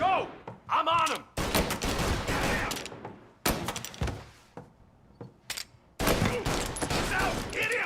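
Loud bursts of video game gunfire in Mafia Definitive Edition, with rapid repeated shots in several dense volleys separated by brief pauses, close and dominant.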